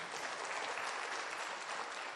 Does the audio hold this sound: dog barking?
no